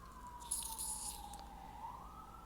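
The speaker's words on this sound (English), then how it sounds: "again, excuse the sirens," Emergency vehicle siren wailing outside, a faint, sustained tone gliding slowly down and back up, heard through the walls with a brief rustle near the start.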